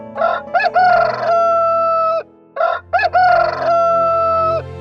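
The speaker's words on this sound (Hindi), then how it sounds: "मुर्गे की आवाज बंद हो गई।" A rooster crows twice in clear, loud, close cock-a-doodle-doos, each a few choppy notes then a long held call, separated by a short pause.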